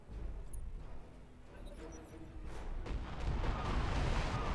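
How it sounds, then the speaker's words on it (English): Distant artillery barrage in the mech strategy game Battletech, a low rumbling wash of muffled blasts that swells toward the end, heard faintly alone. "there is a artillery barrage"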